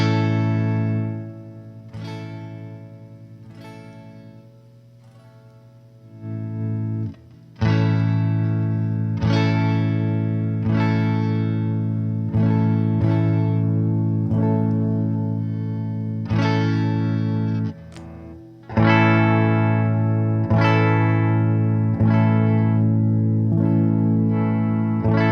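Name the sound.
Squier Stratocaster electric guitar played through distortion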